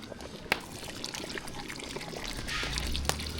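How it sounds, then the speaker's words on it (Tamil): Tamarind water is poured into a pot of sambar nearby, a soft, steady splashing trickle with a couple of sharp clinks. "கடைசியாக புளி தண்ணி சேர்த்துக்கலாம்"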